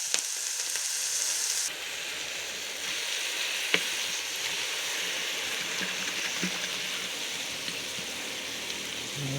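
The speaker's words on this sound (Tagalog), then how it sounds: "Lagyan natin ng bagoong." Shrimp paste, bagoong, hits a hot pan and sizzles in a steady close frying crackle with occasional stirring scrapes and a sharp clink, sustained throughout.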